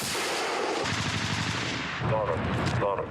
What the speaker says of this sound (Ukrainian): Постріл!